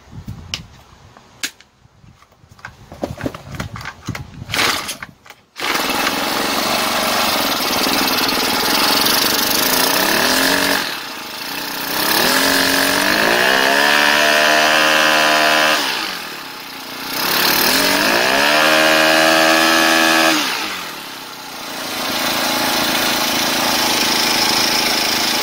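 A four-stroke brush cutter engine is pulled a few times, then fires and runs, idling roughly before revving up to high speed and dropping back, loud and close with no talking.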